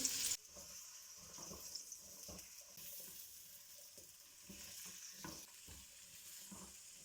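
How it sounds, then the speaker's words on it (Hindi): Moringa roots fry in mustard oil in a wok, a low continuous sizzle broken by scattered stirring scrapes and clatters, quiet and close, after a brief louder burst at the start, with no speech. "कढ़ाई में हम थोड़ा सा सरसों का ऑयल डालेंगे, साथ ही मूलियाँ डाल देंगे।"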